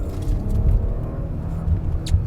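A 2020 Audi Q8 SUV accelerates hard with a deep, steady engine rumble, close and fairly loud throughout, with no talking.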